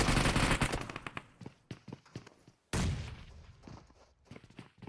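Rapid video-game gunfire during a competitive match, loud automatic bursts and single shots up close, with footsteps and a second heavy volley partway through.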